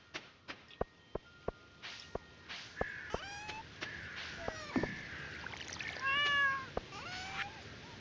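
A cat in the Stardew Valley video game meows several times, short faint calls scattered among soft clicks and taps, with a brief splashing swell near the end.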